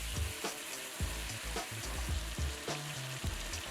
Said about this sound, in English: Sear on each side until browned, about 1 to 2 minutes per side.